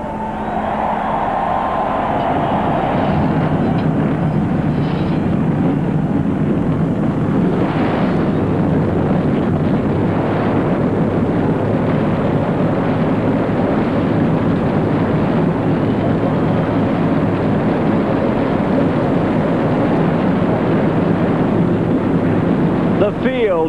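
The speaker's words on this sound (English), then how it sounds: "Drivers, start your engines." Race car engines fire up together at Michigan International Speedway for the 1996 Miller 400, building into a continuous, dense roar that stays loud and steady throughout.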